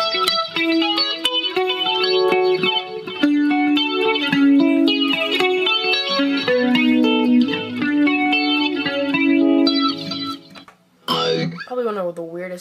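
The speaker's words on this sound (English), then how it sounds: "That's one of the weird harmonizing kind of things where it adds on extra tones depending on what you're playing." Electric guitar through a Digitech RP50 pedal with its harmonizer adding extra tones above the played notes, a steady run of layered pitched notes, loud and close, ending in a brief sliding phrase.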